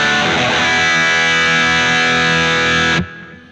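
Distorted electric guitar through a Kemper amp profile plays a riff, loud, dense and saturated, then cuts off abruptly near the end, leaving a brief fading tail.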